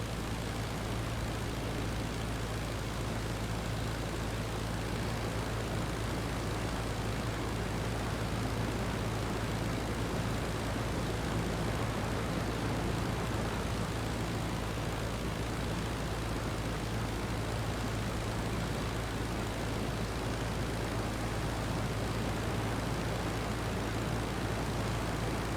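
Steady, unbroken drone of a recon plane's propeller engine in a World War I flight game, a constant loud hum with a low tonal band holding level throughout with no gaps.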